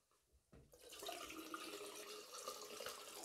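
Water runs steadily from a bathroom tap into a sink to wet the face before a shave, starting after a brief knock and then a continuous close, full rushing splash.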